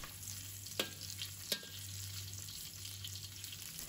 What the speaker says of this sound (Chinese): 因为要慢慢把这个猪油给煸炒出里面多余的肥油，炒出最天然最香的猪油。